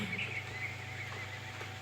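A video-game horse neighs quietly with a soft whinny, alongside faint hoof clip-clops over a steady low background hum.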